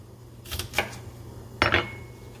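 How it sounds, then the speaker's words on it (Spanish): A knife cutting green beans (ejotes) on a board in a home kitchen: three or four sharp, close chopping clicks in two small bursts, with a faint hum underneath. "Y aquí estoy terminando de cortar los ejotes."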